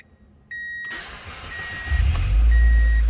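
A 2000 Mazda MX-5 Miata LS with an automatic transmission comes to life after a soft warning chime, its engine catching with a sudden click and then building to a loud, steady idle that swells toward the end.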